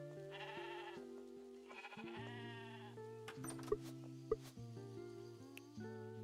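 Sheep bleats in the farm video game Discounty, two wavering cries sounding early over steady game background music, followed by a few soft clicks and taps.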